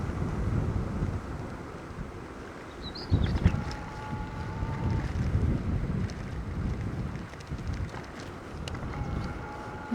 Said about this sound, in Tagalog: Malakas lang talagang hangin.